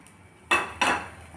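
A metal kadai pan set down on a stove before tempering in a kitchen, heard as two loud clanks about a third of a second apart, each ringing briefly before fading.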